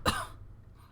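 A voice imitates a single harsh cough during a narrated reading of the horror game Corpse Party: Book of Shadows, a short loud burst that fades quickly into near silence.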